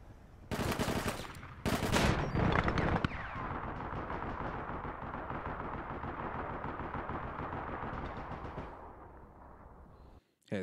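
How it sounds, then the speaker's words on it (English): Automatic and single gunfire from the video game APB Reloaded, with sharp bursts up front and then a long sustained rattling barrage that cuts off abruptly near the end, loud and close. "I got off one shot. He got off like six."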